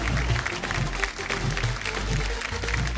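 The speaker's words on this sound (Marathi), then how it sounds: "एकदा जोरदार टाळ्या झाल्या पाहिजेत" Audience applause on a Marathi TV show, a sustained burst of clapping at moderate level, steady for the whole stretch with a low hum underneath.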